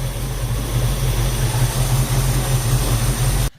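A 1966 Ford Mustang engine idles smoothly and quietly after a 20-minute run, a steady low hum that holds evenly, then cuts off abruptly at the very end.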